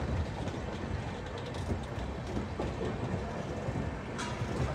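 Shantiniketan Express train running into Khana junction, with a steady broadband rumble and rattle of the carriages on the rails, heard from on board, continuous and fairly loud, with no talk.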